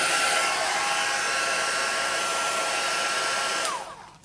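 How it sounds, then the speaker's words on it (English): A heat gun blows a steady, loud hot-air roar while melting embossing powder on candles, then cuts off at the end with a falling whine. "embossing powder to stick and not get blown away when you introduce the heat gun"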